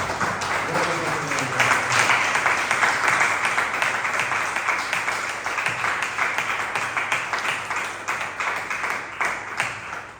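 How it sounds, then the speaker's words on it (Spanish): A church congregation claps loudly in a steady stream of rapid, overlapping hand claps that fade slightly toward the end, with a voice speaking over the applause. "Dale un fuerte aplauso a nuestro Señor."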